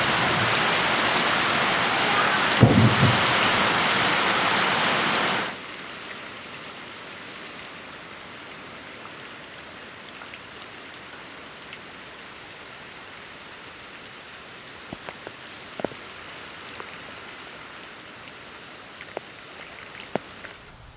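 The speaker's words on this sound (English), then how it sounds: "hopefully the rain stops" Steady rain pours down on an off-grid homestead for the first five seconds, loud and broadband, then drops to a faint background patter with occasional scattered drips.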